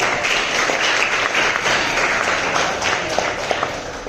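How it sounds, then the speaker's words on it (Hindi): Loud, steady applause from a room of students at a school, dense clapping filling the whole stretch without a break. "जोरदार ताली।"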